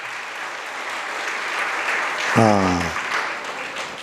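An audience claps steadily through a Jain monk's sermon in Itarsi, a dense, even wash of applause, briefly joined by a short spoken word from a voice.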